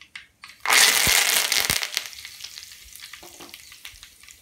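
A sudden burst of loud sizzling as curry leaves hit hot oil with popped fenugreek, crackling fiercely at first, then settling into a gentler fry.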